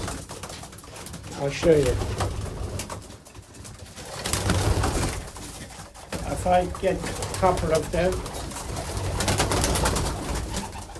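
Pigeons coo repeatedly in a soft, throaty warble inside a loft, with a person talking over them in an enclosed space.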